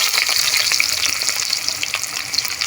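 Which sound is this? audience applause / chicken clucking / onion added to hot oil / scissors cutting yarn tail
onion added to hot oil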